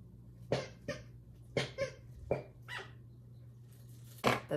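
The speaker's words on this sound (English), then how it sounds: "That's my dog." A pet dog barks indoors in about six sharp, separate bursts spread over a few seconds, over a steady low hum with no talking.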